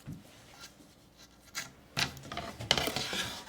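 Collage paper for decoupage being torn by hand: soft rustling, then a few short, rough ripping bursts that come close and grow louder toward the end, with no talking.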